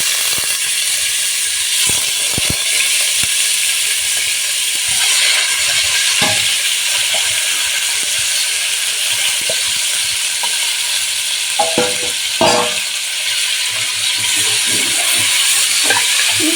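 Chunks of fatty mutton for chops hit a hot pan with fennel and shahi jeera, giving a loud, continuous sizzling hiss with occasional sharper crackles and clinks of stirring; no talking.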